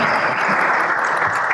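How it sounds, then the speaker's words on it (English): Audience applause for the panel members at a CEO summit panel in Ghana, a dense, steady wash of clapping that holds evenly through the short stretch without a break. "A round of applause, please, for our panel members."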